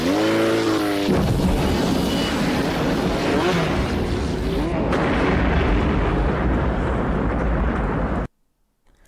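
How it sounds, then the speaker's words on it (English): A gas station explosion in the film RoboCop: a loud, sustained roaring blast with heavy low rumble and crackling debris that fills about eight seconds before cutting abruptly to silence. "Then the gas station goes up. It's the same scene. Gas station goes up."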